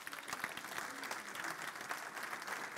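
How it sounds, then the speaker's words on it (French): A theatre audience applauds warmly in honour of mothers, dense sustained clapping from many hands filling the space steadily, with a faint crowd murmur underneath. "Est-ce qu'on peut applaudir toutes les mamans?"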